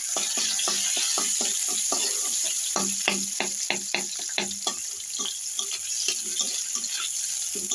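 Garam masala, onion and bay leaf sizzle in hot oil with a steady hiss, and repeated sharp scraping taps come from stirring in the pan throughout.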